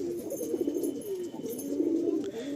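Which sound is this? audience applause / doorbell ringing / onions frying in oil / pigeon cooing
pigeon cooing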